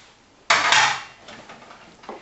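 Spiced pork chops stirred in a casserole dish, a loud scraping clatter of utensil against the dish for about half a second, then softer scrapes and a brief knock.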